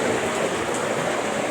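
Water rushes and drips steadily inside a tunnel of the Khewra salt mine, a loud, dense hiss that fills the space without pause.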